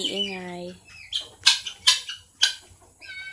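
Chickens in a backyard coop give a rising call followed by several short, loud chirps and clucks close by, with faint background noise between them.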